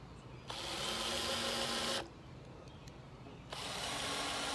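A power driver whirs in two sustained runs, sinking screws into wooden board-and-batten shutter boards, close and steady, with a brief quiet gap between bursts.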